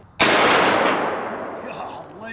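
A single, loud, sharp blast from a .500 S&W Magnum revolver firing a 500-grain hard-cast load, followed by a long decaying echo.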